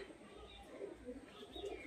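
Domestic pigeons coo softly in a small flock, a faint, steady murmur of low calls repeating under light background noise.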